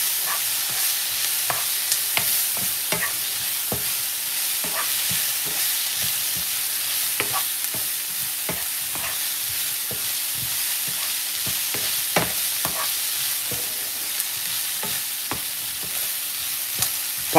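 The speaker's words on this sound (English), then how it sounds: "fry up everything." Pineapple salmon ingredients with bay leaf fry in a pan, making a steady, moderately loud sizzle broken by frequent small pops and ticks of stirring, close by and with no voices.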